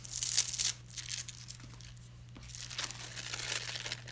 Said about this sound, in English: I'll just peel up the foam, and that will leave the letters perfectly in line